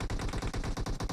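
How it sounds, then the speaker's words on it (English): Shotguns blast in a video game, a rapid, dense string of loud, overlapping shots in quick rhythm that fills the brief moment with no gaps or voices. "You can hear some shotguns blasting off"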